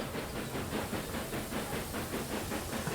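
Steam locomotive hauling a fully loaded grain train uphill in the railway game Railway Empire 2, a steady hissing chuff with rhythmic pulsing exhaust beats and rumbling wagons, continuous and fairly even in loudness.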